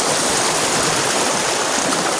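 A stream flows steadily and close by, its broad rushing hiss unbroken throughout with no voices over it.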